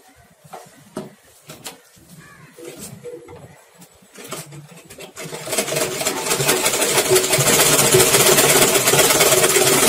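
A sewing machine stitches cloth for gents pants. Quiet talk and light handling come first, then the machine starts and runs as a loud, close, continuous whirring hum until the end.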